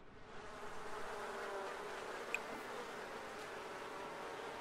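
A steady, continuous insect buzz like a swarm of bees in The Sims 4, even and droning throughout, with one brief faint click partway through.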